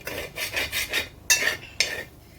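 A spoon stirs mutton roast in a pan, making a run of close, rhythmic scraping strokes, then two sharper, louder scrapes near the end; no voices.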